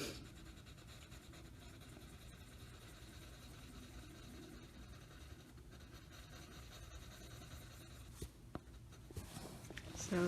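Colored pencil worked on paper in small circles, a soft continuous scratchy rubbing at close range, with brief louder strokes near the end.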